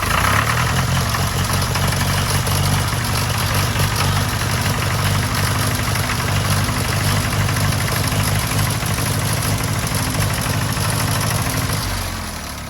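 A loud, raw Fordson Major E1A tractor engine, run with no exhaust fitted, idles steadily and rumbles with a rough, throbbing knock, unmuffled and close, running continuously before easing off at the end.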